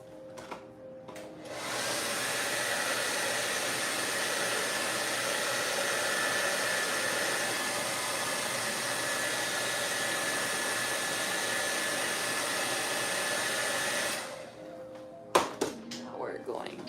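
A hair dryer blows continuously for about twelve seconds to dry freshly applied paint, a steady close whoosh that starts and stops abruptly, followed by a few small knocks.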